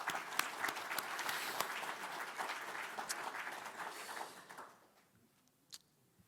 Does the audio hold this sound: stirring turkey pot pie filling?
no